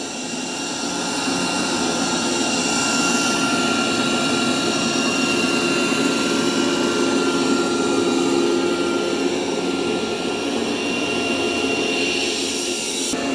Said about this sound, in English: the Dreame is really loud, right? I got it ramped up to its maximum suction.